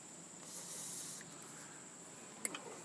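Lubricant is sprayed onto the pedal bushings and pin of a GrassFlap, a soft close hiss lasting about a second, followed by quiet and a few small clicks.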